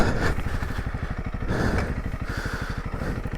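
A Honda CRF300L motorcycle underway, its single-cylinder engine thumping in a rapid, steady pulse with rising and falling revs and some clatter, close and fairly loud, with no talking.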